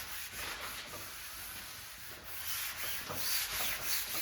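Steady, close rubbing and scraping of a sanding block over primer on an autobody panel, with continuous strokes that swell slightly louder toward the end.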